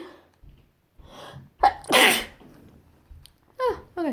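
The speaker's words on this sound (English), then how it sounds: "hold on, gonna sneeze." A single sharp sneeze bursts out after a quick breath in, followed by a few soft breaths, close by and loud against near silence.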